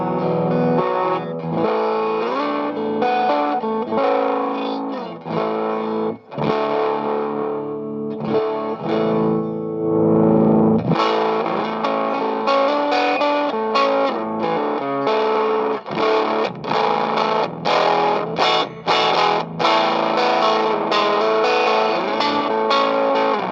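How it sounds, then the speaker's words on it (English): Overdriven electric baritone guitar on the neck pickup playing thick, warm chords and riffs with a round low-mid tone, steady and fairly loud throughout with slight reverb. "I'm going to start with the neck pickup and the classic sound."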